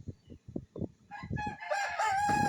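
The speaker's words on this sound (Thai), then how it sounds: "ตัวนี้เป็นไก่" An eight-month-old Thai fighting gamecock crows close and loud, a few low clucking notes giving way to a long, bright, harmonic crow that holds to the end.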